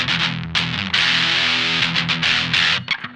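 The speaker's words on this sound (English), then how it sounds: "our palm muting sound is still nice and tight" Palm-muted electric guitar through a Boss DS-1 distortion pedal with the tone knob fairly high, playing tight, chugging distorted riffs with short choked notes and brief pauses, loud and close, no voices.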